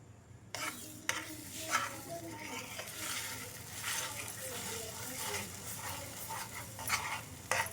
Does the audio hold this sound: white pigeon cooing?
no